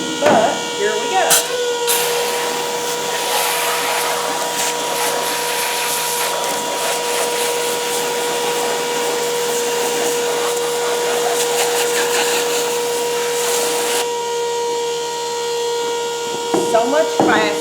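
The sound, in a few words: 12-volt transfer pump cleaning rabbit cage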